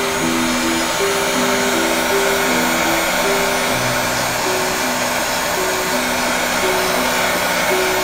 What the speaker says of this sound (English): Kind of gives you a really good idea how hot this heat gun is, right?